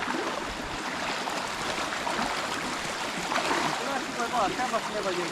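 A river flows at night during black crab catching, a steady close rushing of water throughout, with people talking over it.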